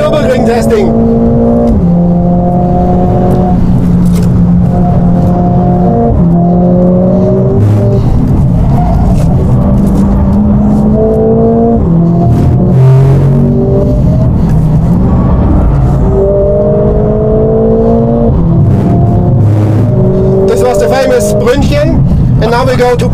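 A Mercedes-AMG CLA 45 S is driven hard on the bumpy Nürburgring, its engine revving high and snapping through repeated upshifts in a loud in-car roar, with a voice talking over it.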